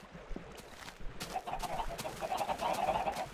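Chickens cluck in Minecraft, a faint, busy run of short calls that thickens toward the end, alone with no talking.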